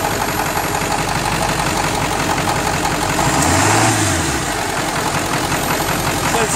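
A Ford truck engine with an E4OD automatic transmission runs close by at a steady idle, then briefly revs up and settles again, with faint voices in the background.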